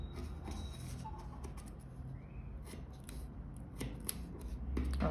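Scissors snip repeatedly and close at hand, trimming a paper sewing pattern along the shoulder seam, the blades giving soft crisp cuts over faint paper rustling, with no talking.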